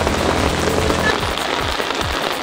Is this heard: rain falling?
yes